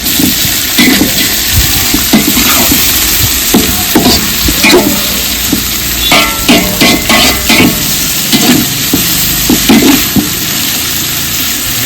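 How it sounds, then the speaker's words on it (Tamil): Onions sauté in groundnut oil in a pot for a large batch of seeraga samba vegetable biryani, with a steady close sizzle broken by repeated scraping stirs throughout and no talking. "வெங்காயம் போட்டு 5 நிமிஷம் ஆச்சு. ஸ்லோவில் வச்சு வதக்கணும்."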